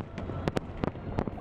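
July 4th fireworks going off in an American city: several sharp booms and crackles at irregular intervals, fairly distant and moderate in level over a steady background hum.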